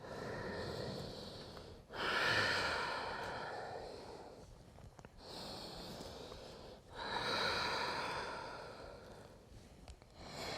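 Slow, deep yoga breaths during a flow class, long forceful exhales and inhales through the nose, close and breathy, repeating about every two to three seconds with a rough, airy rasp.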